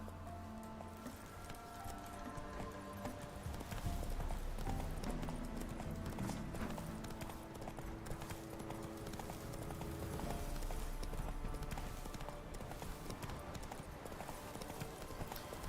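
Roach the horse galloping in The Witcher 3: Wild Hunt, a fast rhythmic clip-clop of hooves running continuously over faint game ambience.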